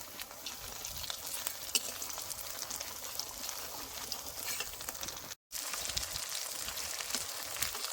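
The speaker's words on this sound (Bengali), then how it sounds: "এই মাছগুলো দেখেন বেশ সুন্দর লাল করে ভাজা হয়ে গেছে" Fish frying in oil in a pan while being cooked for a village-style vegetable fish curry, a steady crackling sizzle with scattered pops, close and continuous, broken by one brief gap.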